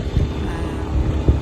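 Strong, cold wind at the summit of Mount Anahaw buffets the microphone with a low, continuous rumble and gusty surges, heard alone without speech.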